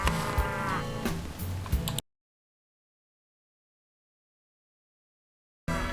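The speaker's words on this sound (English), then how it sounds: "I hopped on over to the cow enclosure to milk some cows" Cows mooing in a farming video game, heard loud and close for about two seconds before the sound cuts to silence, then returns briefly at the end.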